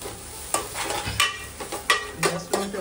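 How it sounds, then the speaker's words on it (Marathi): Ground masala paste frying in a pan for a crab rassa, with repeated spoon scrapes and stirring strokes over a low sizzle, close and moderately loud, no speech. "आणि जरा वाटप टाकते. जरा भाजून चांगलं घ्यायचं."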